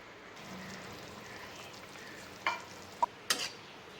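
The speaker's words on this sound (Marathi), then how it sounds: "आता आपल्या या वड्या बॉईल होत आहेत" Gram flour dumplings simmer in a spicy gravy with a soft, steady bubbling and a few sharp clinks of a utensil near the end.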